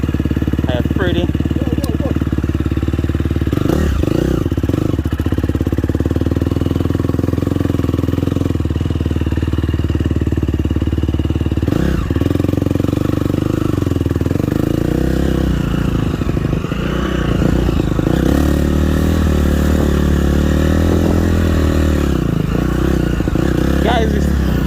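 Motocross motorcycle cruising slowly around a dirt track, a loud steady engine drone throughout with shifting revs, clattering and rattles from the bike, and a rider's voice talking over it.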